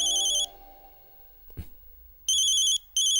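Phone ringing with a call from the office, bursts of a bright electronic ringtone that stop, then resume twice in repeated pulses, separated by a brief quiet rustle.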